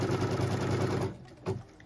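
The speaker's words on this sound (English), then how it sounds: "we're going to go ahead and stitch the next line" Embroidery machine stitching a trimming line that tacks a piece of fabric down on a quilt block, a close, loud, rapid mechanical whir for about a second before it stops, followed by one short clunk.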